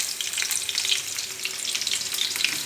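Chopped onions frying in hot oil for godumaravaa upma, a dense continuous crackling sizzle close by with no talking.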